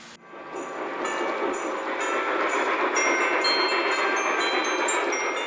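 A toy Christmas train running, a steady close rolling rumble and clatter that starts abruptly and holds even, with faint bell-like ringing tones on top and no talk.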